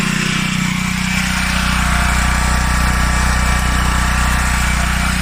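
A portable generator engine runs steadily at close range, a loud continuous motor drone with a strong low hum that holds level throughout, no voices over it.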